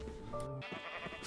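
Pink sheep in the video game Minecraft bleat in a short, close, wavering call lasting about a second, clear and alone with no talk.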